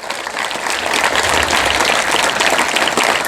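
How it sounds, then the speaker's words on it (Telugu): A crowd applauds loudly and steadily throughout at a motivational program gathering, dense clapping that never thins out. "ఆయనకు ఒక్కసారి గట్టిగా అందరం చప్పట్లు కొట్టాలి."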